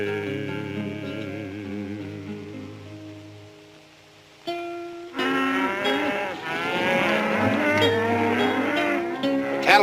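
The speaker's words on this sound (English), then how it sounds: "Cattle are restless, getting pretty spooky." Restless cattle lowing on a 1951 Western ranch trail, long low moos rising over sustained tones, then a busier, denser mix of overlapping calls and noise in the second half, no talk.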